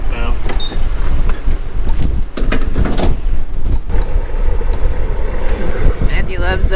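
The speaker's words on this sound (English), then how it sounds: "All right, the wind can stop now." Strong wind gusting across an open gas station, a steady broadband roar buffeting the microphone for the whole stretch, with a person speaking over it.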